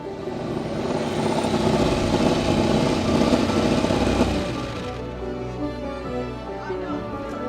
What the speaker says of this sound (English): We're on the GP bike, and this thing is going to be fun